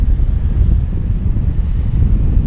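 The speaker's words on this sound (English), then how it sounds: "Very strong wind." Very strong wind buffets the microphone of a paraglider pilot flying into the wind on the back risers, a loud, continuous low roar that holds steady throughout with no talk.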